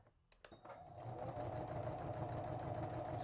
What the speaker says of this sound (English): give my machine something to hold on to so that I can sew these very, very flat